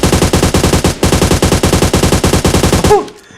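Rapid automatic gunfire in the mobile shooter game PUBG Mobile rattles out in loud, close bursts with a brief pause near the first second, then stops abruptly and fades out.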